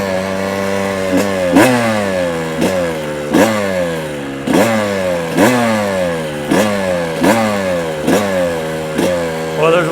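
A Kawasaki KX 125 two-stroke dirt bike engine revs up repeatedly nearby, each loud rising blip falling back in a steady rhythm of about ten revs.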